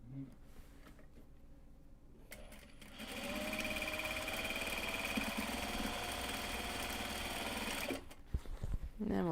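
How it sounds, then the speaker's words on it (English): A sewing machine runs steadily for about five seconds, sewing a side seam on a drawstring bag of Japanese fabric. It is loud and even against a quiet room, with some handling noise before and after the stitching. "Sew up one side."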